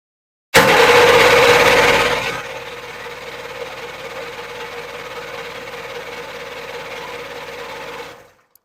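A Terra-jet engine cranks with the choke on, roaring loudly for about two seconds and then settling into a steady, humming idle that holds for several seconds before cutting off.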